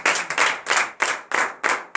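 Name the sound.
applause and clapping from congregation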